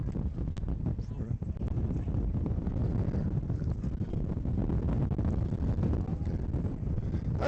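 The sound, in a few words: headwind blowing over rowing race course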